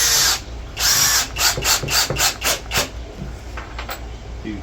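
Power drill driving screws into edge pieces of a target build, a loud whirring burst followed by a rapid series of pulsing ratchet-like grabs as the screw seats, then quieter background.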